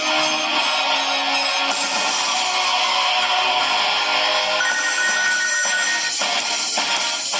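A phone ringtone sounds steadily and fairly loud, a continuous electronic melody with repeating tones, heard alone without talk.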